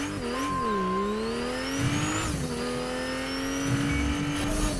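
Video game car from Fortnite lapping a racetrack, its engine droning steadily with pitch sweeping up and down as it revs and shifts, loud and close with no talking.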